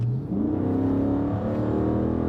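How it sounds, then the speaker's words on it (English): A Chrysler 300 SRT's V8 engine, 190,000 miles, revs up, its rising growl settling into a steady, throaty drone nearby, with no talking. "you get to hear that awesome V8"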